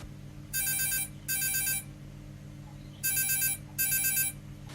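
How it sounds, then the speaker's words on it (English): A telephone ringing for a call into a radio show, its electronic ring sounding in two pairs of bright bursts with pauses between them, clear against quiet background hiss and with no talking. "so let's start with a phone call"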